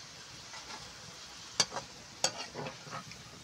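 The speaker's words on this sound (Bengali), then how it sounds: "পেঁয়াজ ভাজা হয়ে গিয়েছে, বাদামি কালার হয়েছে, তুলে নেব।" Sliced onions fry in a pan until browned for a biryani, a soft continuous sizzle broken by two sharp scrapes of stirring partway through.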